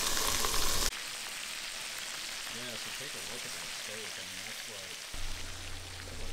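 Steak and vegetables sizzle on a cast iron skottle at an outdoor camp cook, a steady broad hiss running under a voice, with a brief louder burst at the start and a low hum near the end.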